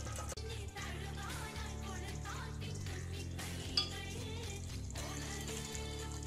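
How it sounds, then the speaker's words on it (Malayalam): A spoon stirs turmeric and chili powder into a tamarind mixture in a pan, giving soft continuous scraping and sizzling at low level with occasional clinks. "നന്നായിട്ടൊന്ന് ഇളക്കി യോജിപ്പിക്കാം."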